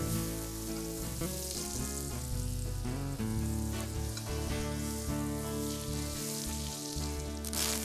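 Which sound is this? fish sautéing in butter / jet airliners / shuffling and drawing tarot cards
fish sautéing in butter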